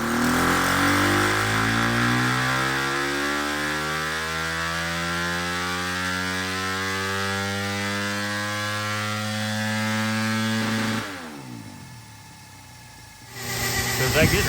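A Yamaha YZ300FX dirt bike with a 304cc Athena big bore kit runs on a dyno at half throttle, its engine note climbing steadily in pitch for eleven seconds before dropping off abruptly, loud and close.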